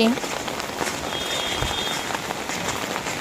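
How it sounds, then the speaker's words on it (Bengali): Heavy monsoon rain pours down steadily in Cooch Behar, a dense, close hiss of drops drumming on surfaces that continues without a break. "তৃতীয় দিন প্রচণ্ড বৃষ্টি চলছে"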